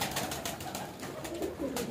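Pigeons kept on a house rooftop, a steady cooing and rustling close by, dense and continuous, with no voices.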